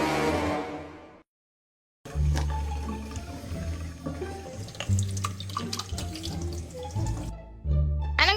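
A kitchen tap runs while dishes are washed. A brief voice comes first, then silence, then a steady splashing stream with scattered clinks and knocks. The water stops near the end and then resumes.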